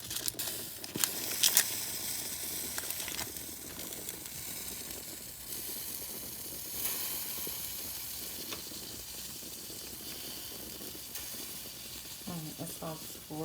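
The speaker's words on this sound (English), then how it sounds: "That's just a little water that's hitting the stove." Water sizzles and hisses steadily on a hot stove pan while Italian ground sausage and vegetables cook, a continuous close frying crackle with a few sharp pops and faint clatter near the end.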